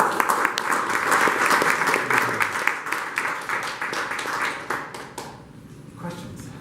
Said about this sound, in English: Or applause first